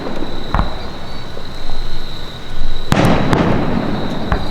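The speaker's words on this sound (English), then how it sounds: "Big boomers. Fireworks are upsetting." Fireworks exploding at a show, sharp booming bursts with crackling tails rising over a steady background hum, several loud blasts clustered near the end.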